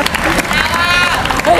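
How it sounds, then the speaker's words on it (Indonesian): Students applaud in a school classroom, a brief burst of scattered hand claps with voices and shouts mixed in over the clapping. "Tepuk tangan dong."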